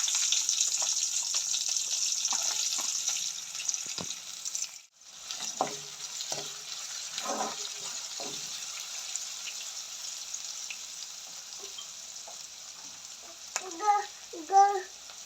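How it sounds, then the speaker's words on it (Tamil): Onions dropped into hot oil for Jaffna-style crab curry give a steady close sizzle, briefly cut off midway, then resume with scattered stirring clatter and bubbling; brief voices come in near the end. "இப்போ வந்து எண்ணெய் கொதிச்சிட்டுது. அது நாங்கள் இப்போ வந்து வெங்காயத்தை போடுவோம்."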